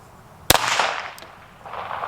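.22 Long Rifle fired in a shooting test: a single sharp, loud crack followed by a short ringing decay, with a faint click and low background noise afterward.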